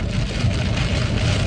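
Heavy rain pours on a car driving at about 40 mph through a night thunderstorm between Waco and Fort Worth, Texas. It makes a loud, steady wash of noise with road rumble and no talk.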